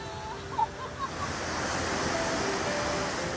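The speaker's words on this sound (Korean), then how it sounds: "와, 이 물소리." Snowmelt rushes down a mountain stream in a constant broadband roar, close and steady. A couple of faint brief knocks are heard early on.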